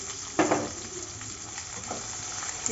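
Mustard seeds, cumin and a chopped medium onion frying in hot oil give off a continuous close sizzle, with a brief louder burst near the start and a few soft stirring scrapes, and no speech.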